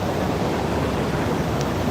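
Dense, continuous roar of rushing floodwater on the swollen Shivnath river at Mohara, Rajnandgaon, a broad steady wash close by with no talk over it.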